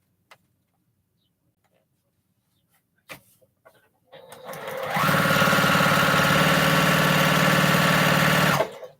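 Sewing machine used for free motion quilting, a few faint clicks and then a loud, steady mechanical whir running for several seconds before stopping.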